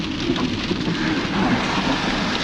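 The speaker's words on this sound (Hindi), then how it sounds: "इस कारण से बारिश हो रहा है।" Steady rain falls under low, overcast monsoon clouds in the mountains of Kinnaur, a dense, even hiss of drops on surfaces that stays constant and fairly close, with no voices.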